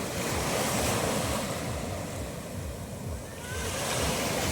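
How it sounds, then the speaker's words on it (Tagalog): Sea waves crash and wash onto a sandy shore in a continuous loud roar, with wind buffeting the microphone and a brief lull before the surf swells again. "Kaya ganda ng hampas ng alon,"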